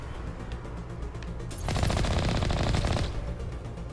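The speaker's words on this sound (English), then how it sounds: "Switching to assault rifle." Sustained burst of assault rifle fire in the Mass Effect video game, a loud rapid stream of shots lasting about a second and a half over steady background game sound.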